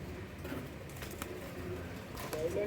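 Young pigeons of Teddy and Sialkoti breeds give soft, repeated coos close by, with faint background noise throughout.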